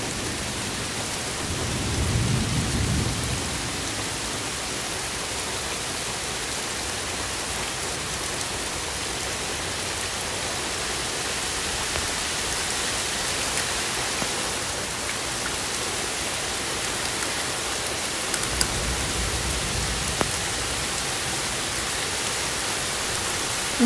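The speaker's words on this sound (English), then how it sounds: "And here's the backyard, we're getting rained on." Intense rainstorm in a backyard, a steady dense hiss of rain on surfaces with low rumbles of thunder rolling in early and again near the end, no voices.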